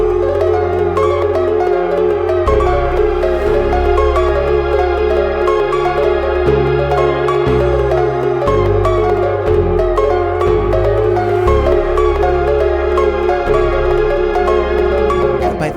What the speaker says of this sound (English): if you use the Pythagorean theorem to create polymeters, they sound like this.